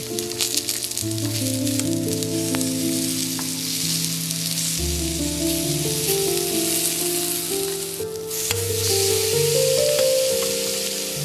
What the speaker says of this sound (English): Grill the squid quickly, just until tender.